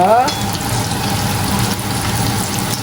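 Chopped onion frying in sesame oil for a goat curry gives a steady, close sizzle that runs evenly from start to finish, with no talking.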